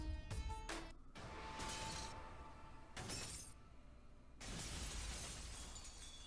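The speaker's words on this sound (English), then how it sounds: "I held the hammer in my hand, faced the glass in front of me, and threw it as hard as I could." Glass shattering after a thrown hammer strikes it in the video game Danganronpa V3, a loud crash with scattering shards in the opening second, followed by tinkling debris and later bursts of game effects, with no talk.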